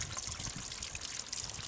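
Water dripping and trickling from a bird bath converted into a water feature, with caulk added around the rim's edge so it drips down evenly; a steady, close, continuous patter with no voices.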